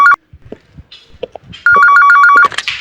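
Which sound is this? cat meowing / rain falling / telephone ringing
telephone ringing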